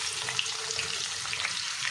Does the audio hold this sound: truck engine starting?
no